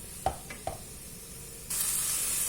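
Chicken curry in a pan gives a couple of sharp stirring knocks, then a steady bright sizzle surges up and holds loud and close.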